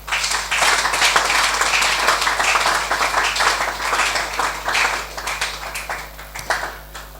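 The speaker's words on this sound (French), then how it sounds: "Nous applaudissons le Seigneur." A church congregation applauding, many hands clapping in a dense, lively wash that swells and then gradually thins toward the end, heard over a steady low electrical hum.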